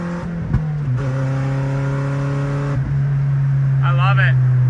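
Nissan D21 truck engine idling steadily after its ignition timing was advanced, a low even hum close by with a brief blip in pitch, while a person talks over it.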